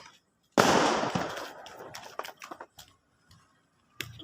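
A single loud Diwali firecracker goes off with a sharp broadband blast, followed by a string of scattered crackles and pops that fade out, then a brief burst of noise at the very end.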